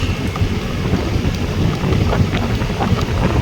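Wind blows steadily outdoors, a dense broadband rumble buffeting the microphone throughout, with no voices.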